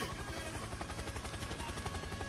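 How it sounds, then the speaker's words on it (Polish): Helicopter in the Roblox Jailbreak video game, a steady rhythmic rotor chop at low volume without talking. "¡Helicopter! ¡Helicopter!"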